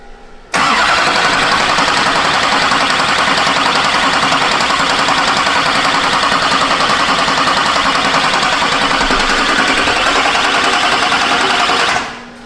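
A Duramax diesel truck engine runs steadily and loudly for about eleven seconds, a dense continuous mechanical roar that starts abruptly and cuts off sharply near the end, with no talking.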